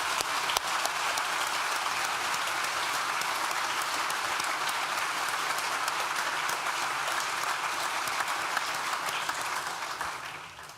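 A large audience at a Nottingham School of Art & Design graduation ceremony claps in sustained, even applause, a dense continuous patter that holds steady for about ten seconds before tapering off at the end.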